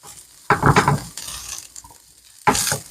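Honey garlic chicken stir fry frying in a pan, with bursts of scraping and clattering as it is stirred over a continuous sizzle, close up and without speech.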